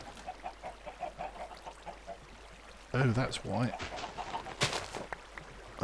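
Chickens clucking in a Minecraft chicken farm with feed lines and chicken runs, repeated short clucks over background, then someone talks briefly while a burst of louder clucking and game noises follows.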